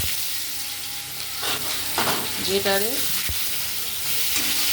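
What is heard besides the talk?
grated onion frying in a pan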